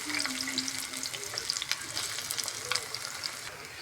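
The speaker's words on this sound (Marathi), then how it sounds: "2-3 हिरव्या मिरच्या टाकते, थोडा कांदा टाकते।" Green chillies and chopped onion sizzle in hot oil in a pan for an egg curry, a steady close crackle with a few sharper pops and no talking.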